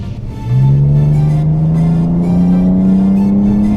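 A Mazda RX7 engine with a Veilside kit pulls away under load, a loud, close, steady note climbing smoothly in pitch as it accelerates.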